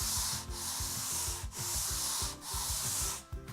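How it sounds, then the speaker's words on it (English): Hand sanding of drywall joint compound across taped wall joints, a close, loud scratchy rubbing in repeated back-and-forth strokes with brief breaks between passes. "the idea is we're kind of going to sand across the joints like so."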